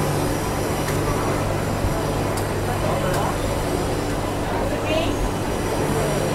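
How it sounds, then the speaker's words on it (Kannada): An electric MEMU passenger train on the Bengaluru–Mysuru line idles alongside at a station platform, a steady low rumble and hum running throughout with busy station ambience, moderately loud and continuous. "ಪಕ್ಕದಲ್ಲೇ ನಿಮಗೆ ಇನ್ನೊಂದು MEMU ಬಂದಿದೆ"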